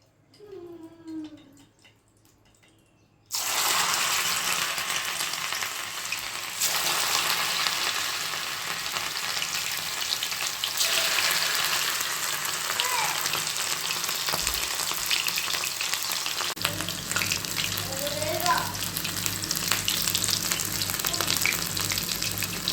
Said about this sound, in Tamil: கடாயில் எண்ணெய் வச்சு எண்ணெய் காஞ்சோன்னே இந்த பக்கோடாவை பொரிச்சு எடுத்துட வேண்டியதான்